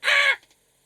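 A raven gives a single harsh, loud squawk lasting about a third of a second, close by, followed by silence.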